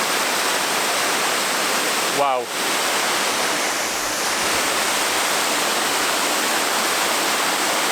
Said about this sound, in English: Waterfalls are just some of my favourite things